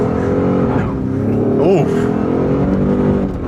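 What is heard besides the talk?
2022 Ford F-150 accelerating hard in 0 to 60 run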